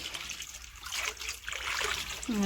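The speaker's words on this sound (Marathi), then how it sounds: "हे नळाला पाणी आलंय हे आता आम्ही भरून घेते सर्व काही" Tap water running into containers at a village home, a close trickle and splash that rises toward the end, with faint background voices.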